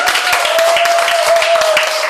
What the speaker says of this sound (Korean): 이럴 때 박수 한번 주시면